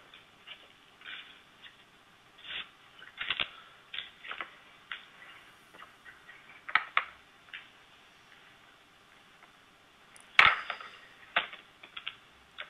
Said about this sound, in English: And once more, just inking the type.